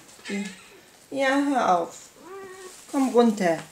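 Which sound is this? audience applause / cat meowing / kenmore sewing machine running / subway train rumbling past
cat meowing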